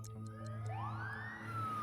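A police car siren in the SimCity city-building game wails with a rising sweep over a steady low hum, moderately loud and heard alone.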